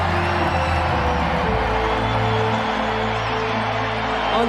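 A massive crowd at a Trump rally cheers and roars in a steady, dense wash of voices, loud and continuous throughout with no pauses.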